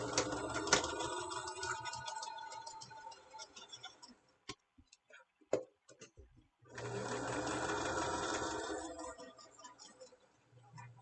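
A sewing machine runs close up stitching a tool apron in two sustained bursts, with a quieter stretch of clicks and handling in between; a voice is heard briefly.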